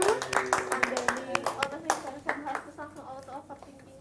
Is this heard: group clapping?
yes